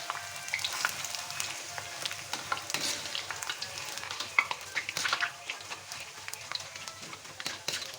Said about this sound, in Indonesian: goreng kerupuk ya teman-temannya